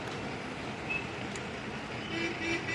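Trucks roll through Haldia dock at night in a steady low roar of engines and road noise, with faint distant horn toots and whines layered over the continuous traffic rumble.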